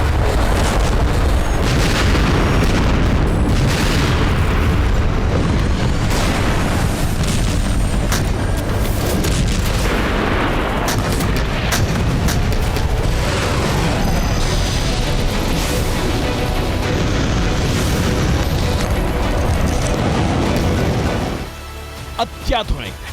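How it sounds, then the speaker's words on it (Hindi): Agni-5 intercontinental ballistic missile launch with MIRV technology: a loud, sustained roaring rumble with booming bursts that continues for about twenty seconds, then abruptly cuts off, alone without speech. "ये भारतवर्ष की सबसे घातक, सबसे सटीक, सबसे शक्तिशाली मिसाइल से लॉन्च होगा और इस मिसाइल का नाम है अग्नि 5 ICBM।"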